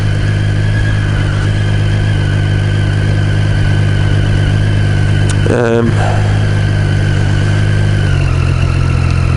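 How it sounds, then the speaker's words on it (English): A 2014 Triumph Street Triple R motorcycle engine runs steadily at idle with a deep, throbbing exhaust note, loud and close, with a brief mechanical blip midway. "The sound of the exhaust is pleasing."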